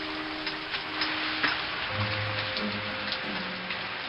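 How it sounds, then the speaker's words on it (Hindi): Steady rain falls on a surface, a dense continuous hiss with faint drips, while low tonal music or hum runs underneath throughout. "इतने में ही बारिश शुरू हुआ।"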